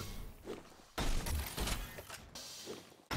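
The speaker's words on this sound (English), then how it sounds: "And a bolt rifle does connect there from Mr. Green onto Dan." A bolt-action rifle shot rings out in a first-person shooter duel, one sharp loud blast near the middle amid busy gameplay noise, with a second burst of action at the end.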